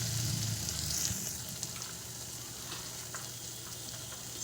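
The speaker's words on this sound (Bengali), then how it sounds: "হলুদ দিয়ে এবার আমি আর একটু ভালো করে ভেজে নেব মশলাটা।" Masala frying in a pan with turmeric and salt added, a steady close sizzle with a louder burst at the start, faint clinks of stirring, and no talking.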